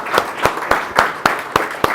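Applause for a businessman from Ganpati Textile being welcomed at a business training event, with clapping bursting out in a rough rhythm of about six loud surges and a steady patter between them.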